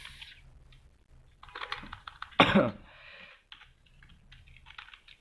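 Someone types on a computer keyboard while coding a zombie shooter game, with scattered close key clicks in short bursts, a louder burst midway and a cough or throat clear among the keystrokes.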